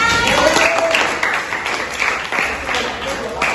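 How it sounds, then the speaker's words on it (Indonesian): Applause from a class after groups finish their presentations in an Indonesian-language teacher training session, a fairly loud burst of clapping mixed with voices talking over it. "Tepuk tangan"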